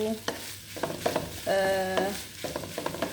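A spoon stirs minced meat filling for sanbusa, with cheese mixed through, in a bowl. Soft, irregular scraping and squelching strokes sound close by.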